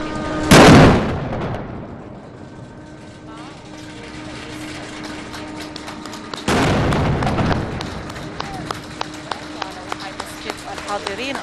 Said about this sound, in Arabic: المدفعية تطلق 21